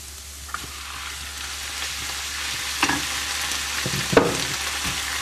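Fish bones sweating with softened vegetables in a pan for a fish stock give a soft, steady sizzle, broken by a few clinks and scrapes of stirring.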